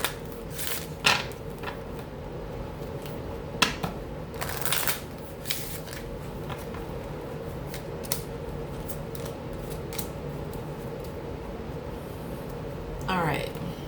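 Romance Angel oracle cards being shuffled by hand, a series of soft riffling and snapping card sounds, some brief and sharp, with a steady low room hum beneath.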